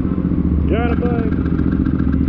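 A motorcycle engine idles steadily and close by for the whole stretch, with a brief voice speaking over it partway through.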